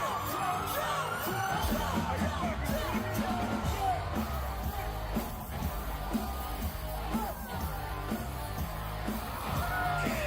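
A packed concert crowd yells and whoops while people crowd surf, a dense roar of shouting voices over booming music, loud and sustained throughout.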